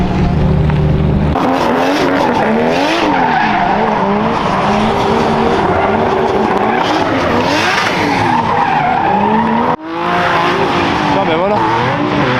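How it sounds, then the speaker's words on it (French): Race cars roar through a racing event. Loud engines rise and fall with revving, and tires squeal and skid continuously, with one brief sharp dip in the noise. "Il y a du son moteur partout, ça vadrouille partout."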